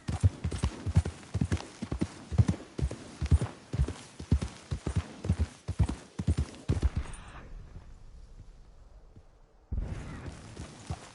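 Horse hooves clip-clop in a fast, steady galloping rhythm in the Red Dead Redemption 2 video game, close and clear, fading out briefly before resuming.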